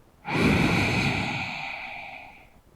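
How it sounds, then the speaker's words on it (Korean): One long, close breath during a yoga exercise: a sharp onset followed by a steady airy exhale that slowly fades over about two seconds, alone in a quiet room. "마시고, 내쉬고"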